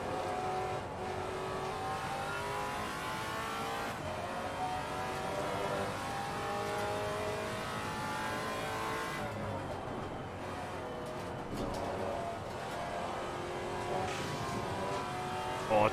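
Maserati MC GT4 race car engine in Assetto Corsa Competizione, a steady sustained engine drone with shifting pitch and a brief change in tone partway through, heard throughout without any voices.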